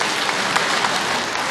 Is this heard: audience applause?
yes